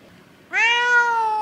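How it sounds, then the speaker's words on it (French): A cat gives a single drawn-out meow while yawning, close and clear, starting abruptly after a near-silent moment and holding a wavering tone to the end. "donc Jack est un chat qui miaule en même temps qu'il baille"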